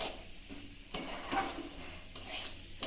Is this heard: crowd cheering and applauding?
no